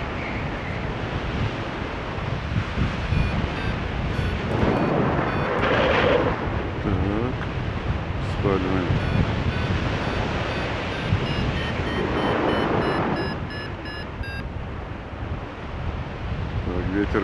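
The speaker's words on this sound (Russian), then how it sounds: "Ветер прямо передо мной." Steady, loud wind buffeting the microphone during a paragliding flight over Sopot, Bulgaria, a continuous rushing roar with gusty swells, while someone speaks at times over it.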